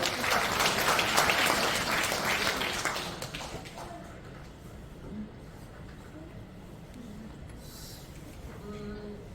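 Applause from an audience at a Christian women's council prayer meeting in a large basement auditorium, a loud burst of clapping for about three seconds that fades into quieter room murmur and faint voices.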